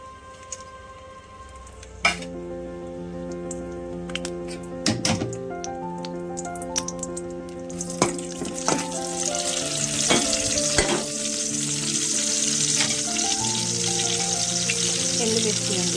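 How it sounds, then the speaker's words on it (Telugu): Garlic dropped into hot oil for tempering a mango dal, a few sharp clatters and stirring knocks, then a bright, rising sizzle that grows steadily louder and fills the last half. "ముందుగా ఆయిల్ వేడయింది, వెల్లిపాయలు వేసుకుందాం."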